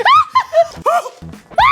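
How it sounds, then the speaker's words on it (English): Several people let out loud, high screams in quick bursts, one near the start and another at the end, with short vocal sounds between them, gathered from a 2022 best-of show. "some of the best screams of 2022"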